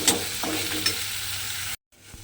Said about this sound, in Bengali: মশলাটা আমার এখানে একটু কষিয়ে নিচ্ছি।